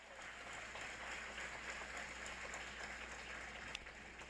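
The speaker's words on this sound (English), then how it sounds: "Let's have a round of applause for Gaël Faye." Audience at a literary festival panel gives an author a round of applause, a soft, continuous wash of many hands clapping, faint and distant, with no talk over it.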